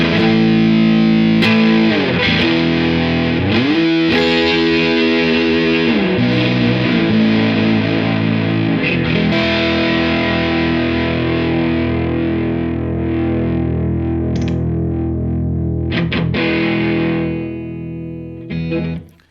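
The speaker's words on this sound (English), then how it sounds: "you can really hear that squashed, fuzzy overtones, like a blown out kind of amp sort of thing" Electric guitar through a Bleak District Terra overdrive pedal, loud and continuous, with squashed, fuzzy, blown-amp distortion across chords and riffs for the whole stretch before cutting off abruptly.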